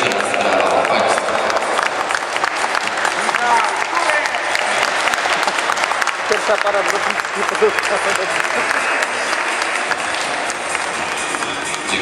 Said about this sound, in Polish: jeszcze raz brawa dla Państwa